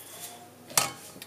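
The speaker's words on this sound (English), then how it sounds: "If I can get a spoon out" A spoon is pulled from a kitchen drawer with a brief metallic clink of cutlery, one sharp rattle followed by a fainter tap, in a quiet kitchen.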